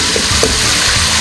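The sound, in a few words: stirring tomatoes and green chilies into frying beef yakhni pulao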